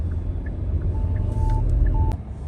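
A 2023 Hyundai Palisade idles with a low, steady engine rumble while a few short electronic beeps sound, including two longer tones, close by inside the vehicle.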